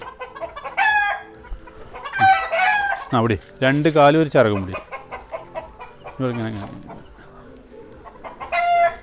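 Chickens being held for R2B vaccination cluck and squawk in loud, agitated bursts at close range, with people talking in between the calls.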